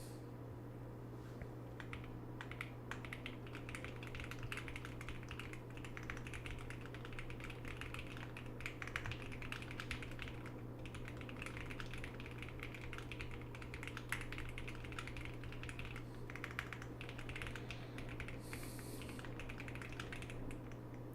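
Rapid typing on a computer keyboard during a typing race, a dense continuous patter of key clicks over a steady low electrical hum, close and fairly quiet, with no talking.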